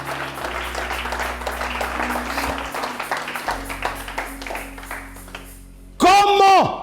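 A church congregation applauds during a French-language sermon, a steady patter of clapping with scattered voices that thins out, before a loud vocal burst at the end.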